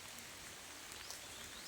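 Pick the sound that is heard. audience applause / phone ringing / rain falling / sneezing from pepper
rain falling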